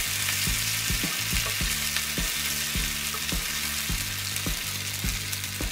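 Garlic paste, ginger paste and ground spice paste frying in a pan for Bengali kosha chicken, a constant close sizzle broken by regular scraping stirs of the spatula, with no talk.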